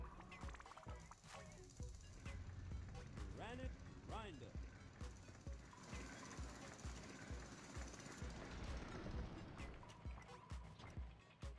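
Rock drilling in the video game Manic Miners, a Rock Raiders remake: a steady mechanical rattle and grinding runs throughout amid game effects and voice announcements, with a person talking over it.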